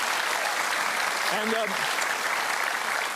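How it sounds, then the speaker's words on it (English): A studio audience applauds steadily throughout, a dense even wash of clapping with a brief voice cutting through midway. "a round of applause for ourselves, I think, ladies and gentlemen"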